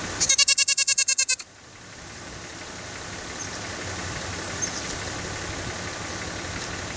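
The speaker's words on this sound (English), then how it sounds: "we also have Tennessee fainting goats, which we have out in the back pasture" A Tennessee fainting goat in a back pasture bleats once near the start, a loud rapid wavering cry lasting about a second, followed by a steady low engine-like rumble.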